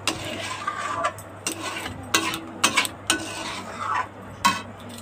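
Semolina kheer stirred in a pot with a spoon, giving repeated scraping knocks against the metal at an uneven rhythm, close by over a low steady hum.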